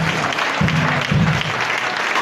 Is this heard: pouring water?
no